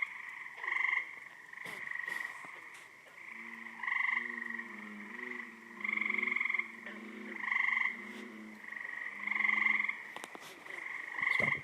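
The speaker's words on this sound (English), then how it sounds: "what you have are calling frogs" Several species of frogs call along the Hudson River, overlapping trills and croaks repeating in steady pulses at moderate distance, with no voices.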